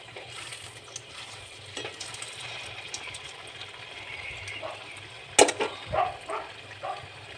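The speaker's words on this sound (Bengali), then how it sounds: "এবার ভেজে নেবো। প্রথমে একটা দিয়ে দেখে নিচ্ছি, তারপর বাকিগুলো সব ভাজবো দিয়ে দিয়ে।" Koftas frying in oil make a faint, steady sizzle for several seconds, then a few louder sputters and pops suddenly break out near the end, close by and with no talking.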